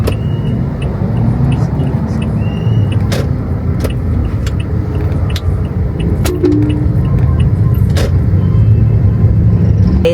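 Car interior while driving through slow road traffic, with a steady low engine and road rumble throughout, plus small clicks and rattles inside the cabin.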